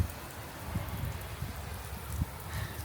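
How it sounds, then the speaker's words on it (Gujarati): Rain falls steadily at night as a dense, even patter with scattered drops striking close by, and no voices. "અહીંયા વરસાદ દેખાય, પાણીના ટીપા પડે જ ને"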